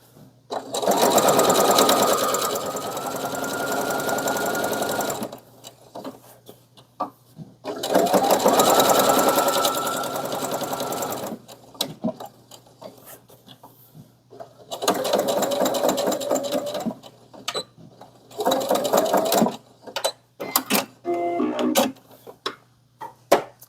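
A sewing machine stitching a fabric bag at 2.5 stitch length runs in loud, fast mechanical bursts of several seconds each, separated by short pauses and a few clicks, close up with no talking.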